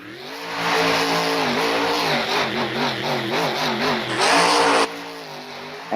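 Truck engine at a dirt-track speedway event revving hard and loud, its pitch rising and falling in repeated surges as the driver works the throttle, with a brief sharper burst near the end.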